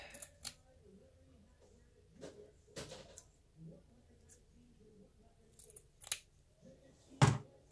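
Scissors snip through a piece of jute cut from a store-bought roll, a few scattered crisp cuts with one loud close snip near the end, in a quiet room.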